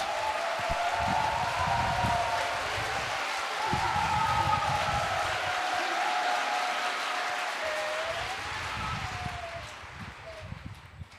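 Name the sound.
audience applause welcoming a speaker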